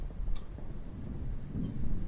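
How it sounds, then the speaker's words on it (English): A thunderstorm rumbles in a continuous low roll of thunder over a steady hiss of rain, heard without any voices. "I do like thunderstorms."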